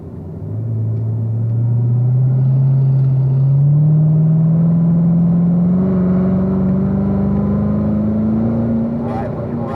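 A Corvette Z06 with an automatic transmission drones steadily on a race track, its engine note rising slowly as it holds one gear through a long section, loud and close from inside the car.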